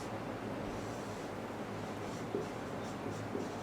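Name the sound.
writing numbers by hand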